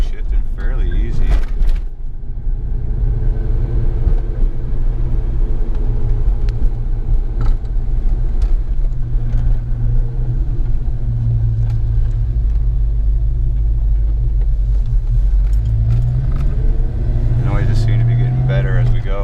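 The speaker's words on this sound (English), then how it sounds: "Hopefully with the lubrication getting around that transmission, it'll make it sound better." A 1993 Mustang Cobra with a newly installed TKO600 transmission drives along, its engine rumbling steadily inside the cabin, with revs swelling near the end while someone talks over it.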